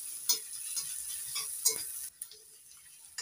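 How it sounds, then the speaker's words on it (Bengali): Ginger and garlic frying with onion in a pan for a broccoli dish: a steady, fairly quiet hiss broken by a few sharp spatula scrapes and clicks, with no talking. "আদা আর রসুনটা ভালো করে একটু ভেজে নেব।"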